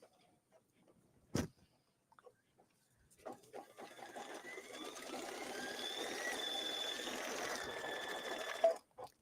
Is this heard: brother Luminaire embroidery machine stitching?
yes